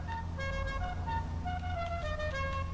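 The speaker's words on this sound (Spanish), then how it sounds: "Bonito claxon." Car horn in GTA V Online honking in a string of short toots over a low engine rumble, fairly loud and near, with no talk.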